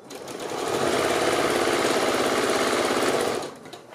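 A sewing machine stitches a three-layer pleated fabric mask in one steady, fast, loud whirring run of about three seconds before it slows and stops.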